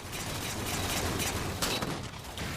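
Sniper rifle fire in a video game, a dense burst of loud, sharp shots packed close together over a couple of seconds, with no talk.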